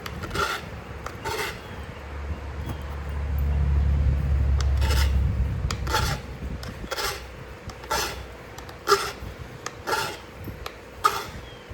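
Coastal chert arrowhead being sharpened, with short rasping abrasion strokes repeating at a steady rhythm, close and moderately loud, and a low rumble under the middle of the passage.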